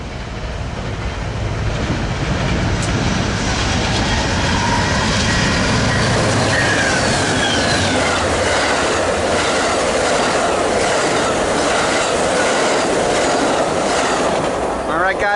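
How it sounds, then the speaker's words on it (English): Train 3 to Los Angeles roars past at Commerce at around 80 mph, a loud continuous rumble of rail cars and clattering wheels with metallic squeal, close and sustained throughout, with a voice briefly heard over it. "there goes train 3 to LA."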